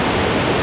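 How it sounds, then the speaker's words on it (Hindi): Waterfall in the Kargah Valley of northern Pakistan roaring as a loud, dense, continuous rush of falling water, close by and steady, with no other sound. "बड़ा खूबसूरत आबशार है।"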